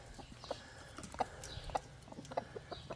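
Farmyard chickens give scattered soft clucks and brief calls at irregular intervals, fairly quiet and close against faint background noise.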